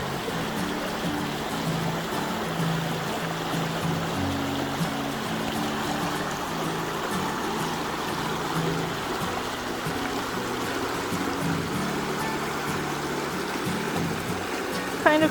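River flowing beside a hiking trail below bluffs, a steady broadband rush of water holding at an even, moderate level throughout, with a brief louder sound at the very end.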